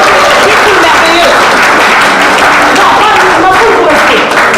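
Church congregation applauding with sustained, dense clapping from a large crowd, loud and continuous, with a voice speaking over the applause.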